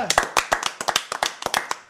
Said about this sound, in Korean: 박수 한번 치고 할까? 아, 박수.